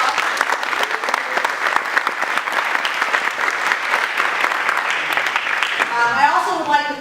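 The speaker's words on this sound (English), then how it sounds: "give you a round of applause" Sustained audience applause filling the room at a community organization gathering, dense steady clapping lasting several seconds before voices rise near the end.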